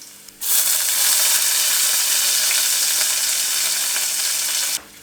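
Garlic and curry leaves fry in a pan for a light golden-brown Kerala-style bhindi masala, a loud, steady, close sizzle that bursts in abruptly and holds evenly before cutting off just before the end.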